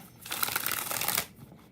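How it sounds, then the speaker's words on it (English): Tarot cards shuffled in a brisk run of riffling and slapping, dense and fairly loud for about a second, then stopping. "Let me do 2 more shuffles."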